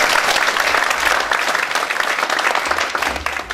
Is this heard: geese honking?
no